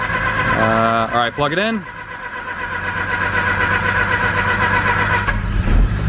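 A Mazda RX-8 R3 bought from a salvage auction cranks with a whirring starter, catches, and settles into a loud, steady idle, while a person speaks over the start.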